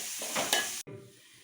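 Sliced onions sizzling and being stirred in a hot pan, a brief loud hiss that cuts off abruptly before quieter frying continues.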